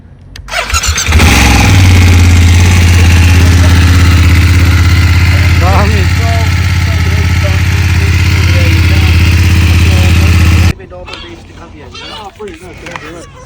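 A BMW GS 850 motorbike engine turns over and settles into a loud, steady idle with a deep, even rumble, then cuts out as voices talk nearby.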